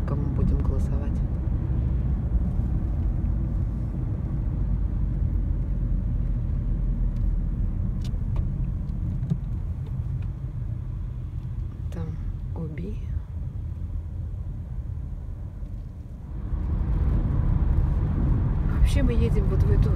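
Car driving through city streets in Katowice, a steady low road rumble with engine and tire noise, softening briefly midway before swelling again, with quiet talk inside the cabin.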